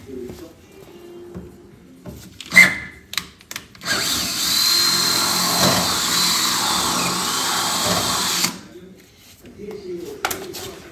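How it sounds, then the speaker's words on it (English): A power drill bores out a screw hole in a 1966 Chevelle door, running steadily and close for about four and a half seconds, with brief talk and tool handling before and after. "So let me get this drilled out and we'll get this one put in."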